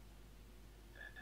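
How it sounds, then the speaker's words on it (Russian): A toad croaks in a Harry Potter video game, two short close calls near the end over a low steady hum, with no talk. "Жаба, которая сейчас не нужна,"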